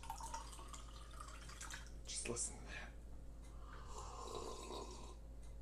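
Purified water drips from a water purifier in a home kitchen, a soft trickle running under a person talking over it throughout.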